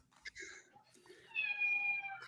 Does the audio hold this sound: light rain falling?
no